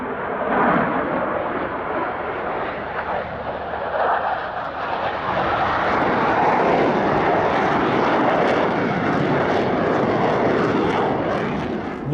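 Black Eagles aerobatic jets flying a two-ship High Alpha and Loop at the Australian International Airshow, a loud sustained jet roar that swells and holds steady throughout, broad and rumbling with no voices.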